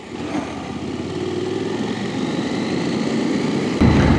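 A KTM 890 SMT 2025 motorcycle's engine hums steadily and close by as the bike rides along a circuit, a continuous low drone that swells slightly toward the end, with no talking.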